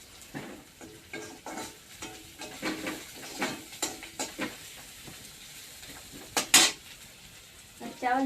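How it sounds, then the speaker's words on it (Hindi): Crushed onion, garlic and chili fry in a pan in a village kitchen, a soft sizzle under irregular scraping and clattering of a stirring spoon against the metal, with a few sharper clanks near the end. "यहाँ पर प्याज और लहसुन मर्चा कूट करके मैं भूज रही हूँ"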